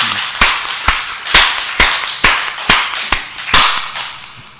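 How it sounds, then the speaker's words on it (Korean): A church congregation claps in unison, sharp, loud, evenly spaced claps, about two per second, with a short ringing decay after each. "주님께 박수로"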